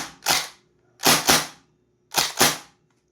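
Maruzen MP5K gas blowback airsoft rifle firing three sharp bursts of about two rapid cracks each, close and loud, with silent gaps between them.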